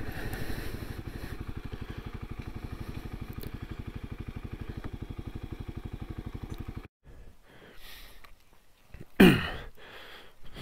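Kawasaki KLX300 dual-sport motorcycle engine pulsing steadily with a rapid even thump for about seven seconds, then cutting off, leaving quieter rustling and a short loud burst near the end.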